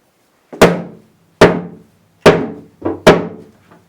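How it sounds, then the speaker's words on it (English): Five dull, heavy thuds from a rubber mallet striking wooden shelves of a bathroom storage cabinet, spaced about a second apart with one quick double hit near the end. "The rubber mallet doesn't work very well."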